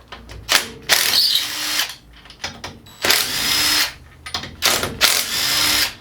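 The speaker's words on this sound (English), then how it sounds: "Let's get some bolts out." Hand ratchet and power driver loosening bolts on a John Deere STX38 lawn tractor engine, heard as several separate bursts of close, loud clicking and whirring with short pauses between them, no talking.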